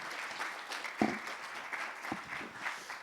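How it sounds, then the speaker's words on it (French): Audience applause at the close of a conference on mixed reality in marketing, a steady wash of many hands clapping in a room, moderately loud with a few sharper claps standing out. "Je pense qu'on peut applaudir les intervenants pour leur présentation."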